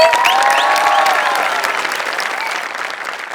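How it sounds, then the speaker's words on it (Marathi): A studio audience at a Marathi television comedy show claps loudly and continuously, with the applause easing slightly toward the end. "एकदा जोरदार टाळ्या झाल्या पाहिजेत"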